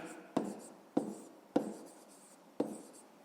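Pen writing out a math solution on paper: four distinct scratchy strokes, spaced unevenly, close and fairly quiet against a silent background.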